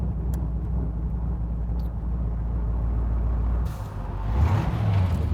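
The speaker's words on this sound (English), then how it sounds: "A couple of big trucks here." Big trucks rumble past a 1966 Chevrolet Corvette convertible on the road, a heavy low engine drone throughout with a sharp hiss near the end as an air brake releases, fairly close and with no talk.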